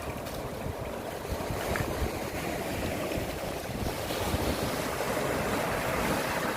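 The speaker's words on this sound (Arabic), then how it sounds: "منظر البحر رائع رائع يا بنات، الراحة النفسية." Sea waves wash steadily against the shore, a continuous broad rushing roar mixed with wind buffeting the microphone, with no voices.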